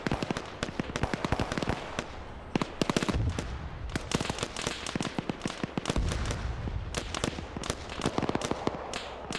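Video game rockets fire in a dense, loud barrage of crackling pops and sharp bangs that repeat rapidly and almost continuously for several seconds, with heavier booms mixed in.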